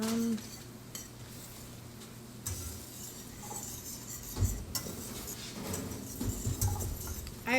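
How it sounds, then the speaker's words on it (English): A spoon stirring a sauce of mustard and sweet peppers in a pan, with soft scraping and occasional clinks of metal on cookware up close over a low background hum. "Tiff, so go ahead and stir that up"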